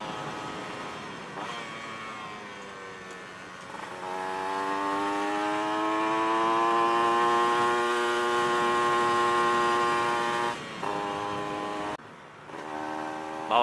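A motorcycle fitted with a big-bore aftermarket exhaust revs up and holds a rising, throaty engine tone, then drops off with brief gaps as the throttle is blipped, heard fairly close and without talk.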